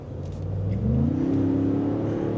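A 2025 Ford Expedition engine revs up as it accelerates in sport mode, its pitch climbing and then holding steady, heard from inside at moderate volume.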